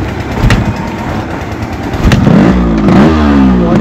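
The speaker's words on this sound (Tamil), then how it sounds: "வண்டியோட பீட் வந்து கேளுங்க எவ்வளோ சூப்பராக" A Yamaha RX 135 two-stroke motorcycle is ridden in first gear, its engine loud and close, with a buzzing beat that rises in pitch as it revs, a few sharp clattery pops, and no talking.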